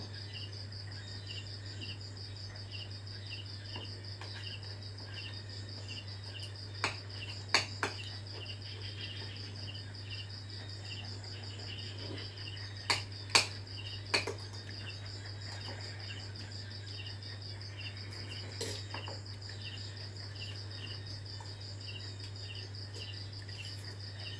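Frogs and toads call at night in a steady, dense pulsing chorus, joined by a continuous low hum and a few brief sharp clicks.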